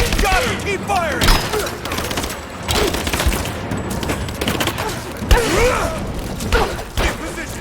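Bursts of rapid gunfire in Rise of the Tomb Raider crackle in dense, overlapping volleys, loud and close, with shouting combat voices mixed in.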